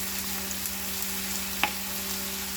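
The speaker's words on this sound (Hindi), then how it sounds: "बस थोड़ा सा शैलो फ्राई करेंगे ताकि इन सब का रॉ स्मेल चला जाए" Mixed vegetables shallow fry in a pan with a continuous, even sizzle and a low steady hum beneath, with one brief clink partway through.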